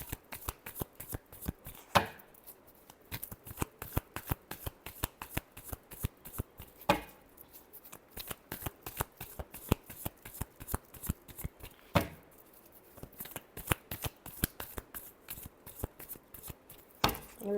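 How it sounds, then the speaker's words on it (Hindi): Tarot cards being shuffled by hand, a close, quiet flurry of rapid papery riffles and taps, with brief louder slaps as the deck is squared every few seconds, heard alone without talk. "Last shuffle."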